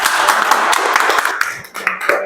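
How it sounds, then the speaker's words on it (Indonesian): Audience clapping at the close of a school presentation on positive culture, loud close scattered hand claps with distinct individual slaps, thinning out toward the end while voices murmur in the room. "Tepuk tangannya mana?"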